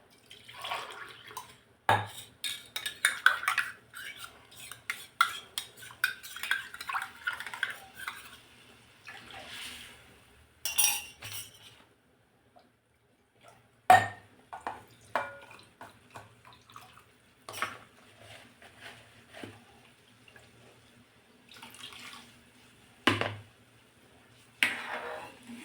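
A spicy village-style katachi amti, thinned with water, is stirred in a pot, giving scattered clinks and scrapes of a spoon against metal with soft sloshing, broken by short quiet pauses.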